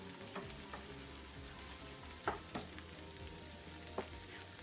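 Onion frying in a pan for a pupusa filling, a steady close sizzle with a few sharp crackles and pops scattered through it, no voices.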